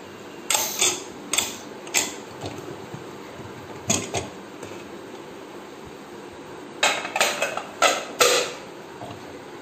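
Pressure cooker of Ambalappuzha palpayasam being opened after resting, a series of sharp metallic clinks and knocks in short clusters against a quiet background.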